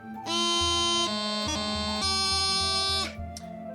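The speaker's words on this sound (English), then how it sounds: "if I am going to play an E with a grip up to F, it's going to sound like this" Bagpipe chanter and drones sound a grip from E up to F, a held bright note interrupted by a fast cluster of grace notes, then a sustained higher note that cuts off cleanly.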